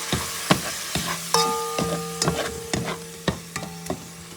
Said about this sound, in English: Now it's time to add the tomato. Mix things up nicely.